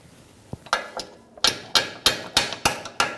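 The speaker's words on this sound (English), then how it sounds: "We're gonna use a small chisel and put it in where the ball joint is" Hammer blows drive a small chisel into the ball joint gap of a 2010-2014 Subaru Outback front control arm, about eight sharp metallic strikes in a quickening, irregular rhythm, close and loud with no talking.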